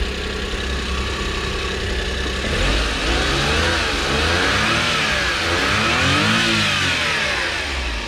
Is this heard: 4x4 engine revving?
yes